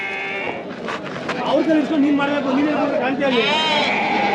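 Young lamb at a weekly sheep and goat market in Magadi, bleating in a wavering, drawn-out cry close by, with people talking over it amid the market bustle.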